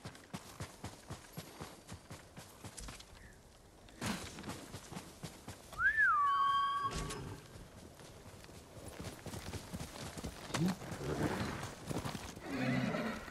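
Rapid hooves clip-clop in a steady galloping rhythm in the video game Ghost of Tsushima, broken midway by a loud horse whinny, then the hoofbeats carry on.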